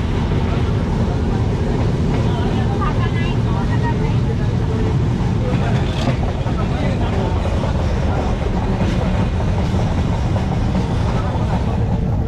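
The Ruposhi Bangla Express runs at speed, giving a loud, constant rumble and rattle of carriages with faint rhythmic clatter, heard from inside the train.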